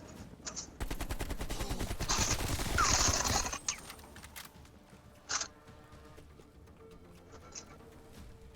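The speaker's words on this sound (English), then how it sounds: "Who's shooting at us when you go in the spotlight?" Automatic gunfire in the Call of Duty Black Ops Cold War zombies map Mauer der Toten: a dense, rapid burst lasting about three seconds, then quieter scattered pops and single shots.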